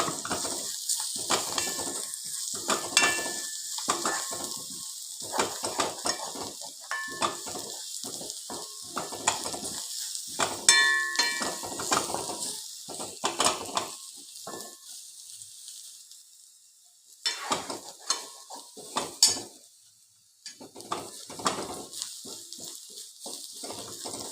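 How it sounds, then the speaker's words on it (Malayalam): Chillies roasting in a pan give off an uneven sizzle, mixed with repeated scraping and clinking as they are stirred, with a few quieter gaps in between. "അവരവരുടെ ടേസ്റ്റിനനുസരിച്ച് മുളക് മൂപ്പിക്കാം"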